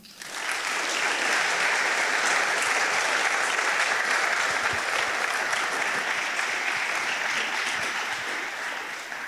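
Sustained, dense applause from a lecture audience welcoming a professor to the stage, loud and even throughout, with no voices over it.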